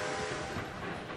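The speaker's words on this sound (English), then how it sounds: "Train's coming in." A steam train pulls into a station in Red Dead Online, with a steady, close, loud rumble and rattle of rolling wagons and no voices.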